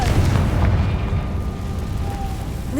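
Confringo blasting spell explosion in the video game Hogwarts Legacy, a loud, deep booming rumble that fills the moment and slowly tails off.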